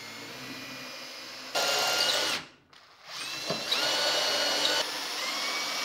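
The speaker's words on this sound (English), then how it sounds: "We're going to drill a few holes to help these screws go into place and hold this." A power drill bores holes into wood for desk screws, a close, high whirring burst that stops briefly and then kicks back in for a second steady run.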